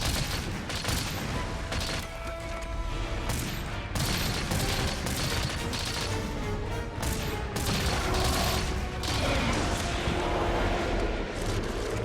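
A heavy bowgun fires pierce ammo in the Monster Hunter video game Magnamalo quest as dense, rapid bursts of shots, with impacts and booms layered over each other at constant loud intensity.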